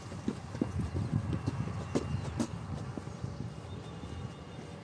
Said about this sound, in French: Avec des chevaux au loin.